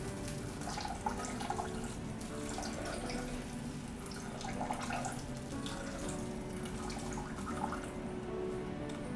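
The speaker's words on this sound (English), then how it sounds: "Pouring that in will put out most, if not all, of your flame." Warm apple cider is poured into a flaming rum punch, giving a steady splashing, trickling pour that runs continuously at moderate level, with no talk.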